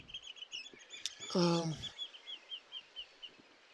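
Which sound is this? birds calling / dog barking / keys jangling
birds calling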